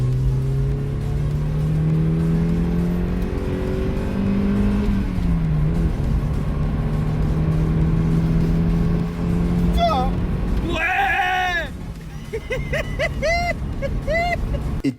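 Mazda MX5 NBFL engine accelerating from inside the car: a steady loud drone with rising and falling pitch through gear changes, a sharp rev swell near the end, with someone talking over it.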